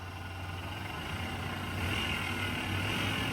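A GMC Sonoma pickup engine, long unused, idles with a steady low rumble and then rises slightly as the throttle is given a little gas, close and continuous.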